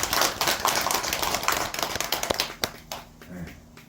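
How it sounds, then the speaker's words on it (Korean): Audience members at a winter solstice Dharma service clap for themselves. A burst of many hands clapping fades into sparser, scattered claps over a few seconds. "자 오늘 또 갑자기 한번 여러분들 자신들을 위해서 박수"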